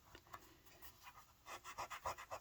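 Soft, rhythmic rubbing of cloth burnishing gilded decoration onto a banded book spine, faint and close, strokes growing stronger and more regular toward the end.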